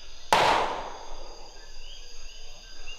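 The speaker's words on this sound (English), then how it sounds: "Those are gunshots." A single sharp gunshot cracks out in a forest, a sudden bang that rings away into a fading echo over a faint background of insects.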